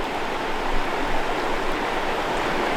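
River water rushes out of a mill diversion channel on the Vire river, a steady loud broadband flow with no pauses, close by and alone.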